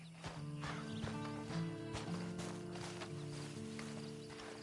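Horse walking in the Red Dead Redemption video game, hooves clip-clopping in a steady rhythm beneath a sustained tonal music bed, moderately loud and continuous without speech.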